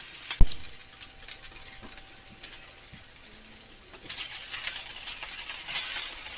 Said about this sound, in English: But let's fry it up and see how it does.